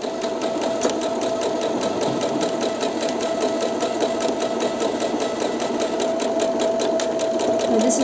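A sewing machine stitches fabric with a fast, even mechanical clatter of needle strokes and a steady motor hum, running loud and close throughout.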